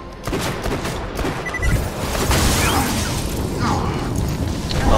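Enemy gunfire rattles in Borderlands 2, dense overlapping shots and mechanical clatter forming a loud, continuous barrage with scattered bursts, while a voice speaks briefly.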